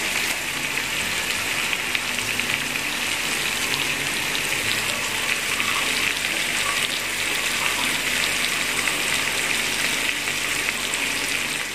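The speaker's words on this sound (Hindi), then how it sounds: "तो ये देखिए आधा कप पानी का मैं इसमें शामिल करने लगी कढ़ाई में।" Half a cup of water hitting a hot kadhai of tomatoes, a loud continuous sizzle and hiss like heavy rain, close and unbroken for the whole stretch, no talking.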